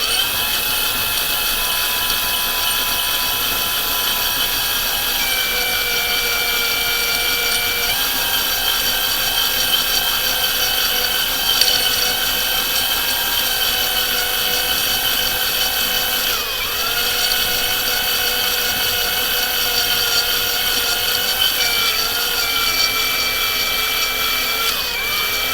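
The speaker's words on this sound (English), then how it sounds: "So you just want to do it very slowly, applying a little bit of pressure and really holding on to the duck" Drill boring slowly into a wooden duck, a continuous loud whine with steady tones that shift slightly in pitch as pressure changes, running unbroken for the whole stretch with no talking.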